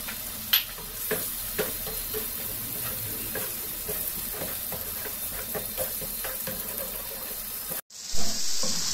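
Three eggs going into a tomato and spice masala, frying and stirred: a continuous close sizzle with scattered spoon scrapes and taps, then a brief burst of running water at the end, no speech.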